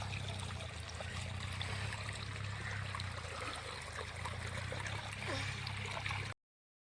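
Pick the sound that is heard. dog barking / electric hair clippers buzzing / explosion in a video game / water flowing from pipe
water flowing from pipe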